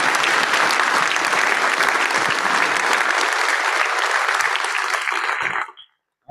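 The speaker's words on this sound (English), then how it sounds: "We could give Dr. Varma and Ron another round of applause." A large lecture audience applauds steadily and loudly for several seconds, then the clapping quickly dies away into silence.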